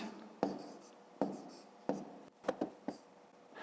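Numbers are written by hand during a fifth-grade maths subtraction exercise. Soft, close scratching strokes come in short bursts, about six of them in a loose rhythm, with quiet pauses between.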